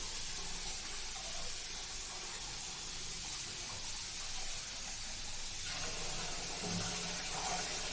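Cold water pours from a tap into a pet bird's food dish, producing a steady watery hiss that runs the full length, shifting in tone partway through as the flow or vessel changes, no talk.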